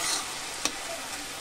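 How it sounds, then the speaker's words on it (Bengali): Spinach greens stir-fried in a pan: a steady soft sizzle with a single scraping clack of the spatula partway through, close and alone. "আমি ভালো করে আরেকটু নাড়িয়ে চাড়িয়ে ভেজে নেব"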